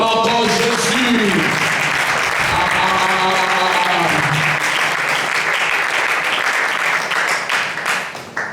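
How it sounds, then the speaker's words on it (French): A church congregation claps loudly and steadily for several seconds in praise of Jesus, with voices singing and shouting over the applause until it thins out at the end. "Acclamons encore Jésus"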